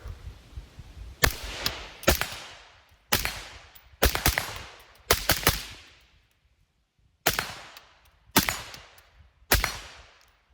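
A Desert Tech Quattro-15 rifle fires during reloading drills: sharp, loud single shots and quick doubles in uneven bursts, each followed by a brief ringing decay, with short pauses between strings.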